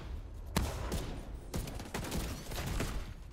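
M1A rifle fire in The Division 2 PvP, several sharp, spaced shots in quick succession, loud and close with little talk.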